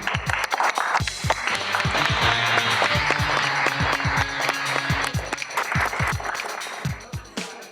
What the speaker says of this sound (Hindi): हमारी चाची के लिए और जोर से तालियां।